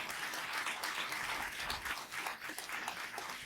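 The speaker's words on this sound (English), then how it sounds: "Can we give another round of applause to our honorees tonight?" Audience clapping for honorees at a racial justice awards event, a dense, somewhat distant wash of applause that holds steady for several seconds, softening slightly near the end.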